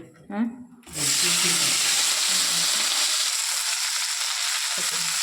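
Green chillies drop into hot oil and set off a sudden, loud, steady sizzle that fills the rest of the clip. A voice is heard briefly just before the chillies go in.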